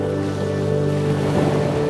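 Ocean waves roll and wash around a cargo ship crossing the wide sea, a continuous mid-level surge with a low rumble beneath.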